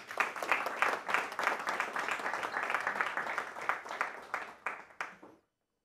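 An audience applauds at a handball awards ceremony in Iceland, a sustained burst of clapping that rises quickly, holds steady, then stops abruptly.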